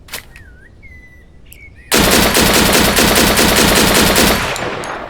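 An extremely powerful rapid-fire weapon in the Deadside video game lets loose a loud, continuous burst of automatic fire lasting about three seconds, following a quieter stretch of faint chirps and interface tones.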